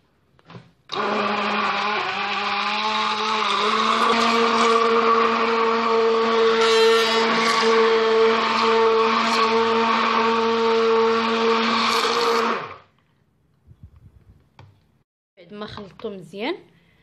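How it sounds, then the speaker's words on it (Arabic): A blender whirs loudly and steadily for about twelve seconds, mixing vegetable pancake batter with potato and half a cup of oil, then cuts off, leaving faint knocks and brief talk. "غادي نخلط هادشي مزيان"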